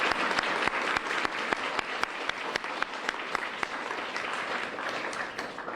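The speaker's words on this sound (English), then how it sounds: "we should just give them a round of applause" An audience at a CUNY Honors donor thank-you event breaks into steady applause, a dense sustained patter of many hands clapping throughout, with no speech over it.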